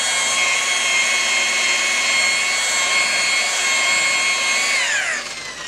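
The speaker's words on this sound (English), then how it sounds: "So you have to be careful when you're buffing this." A power buffer polishes sanded car clear coat with a steady, loud high-pitched whine that runs for several seconds before the motor pitch drops as it slows down.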